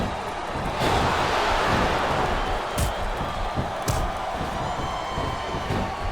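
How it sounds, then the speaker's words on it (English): A large video game wrestling crowd roars continuously with broad, steady noise, punctuated by a couple of sharp thuds or slams partway through. "It sounds like this capacity crowd has something on their minds, Taz."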